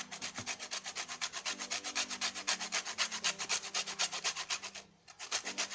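Lemon peel being grated for zest for a plain lemon cake, with steady rhythmic scraping strokes against the grater, close and fairly quiet, briefly pausing once before resuming.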